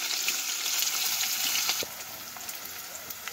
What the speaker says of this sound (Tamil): பாருங்கள், ஆனியன் நல்லா ஃப்ரை ஆகிடுச்சு.